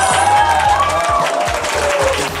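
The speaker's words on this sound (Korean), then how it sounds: "저희가 특별 부원을 오늘 한번 모셔보려고 하는데 박수로 맞아주시면 감사드리겠습니다" An audience breaks into applause to welcome a special guest onto a Korean game-club variety show about League of Legends. Steady clapping runs throughout under bright musical tones.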